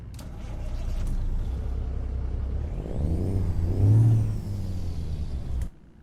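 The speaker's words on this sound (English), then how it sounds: "let's jump on the outside and start that up" A Kenworth C500 truck in American Truck Simulator starts up: a steady low diesel rumble that swells with a rising whine, revs briefly, then cuts off abruptly near the end.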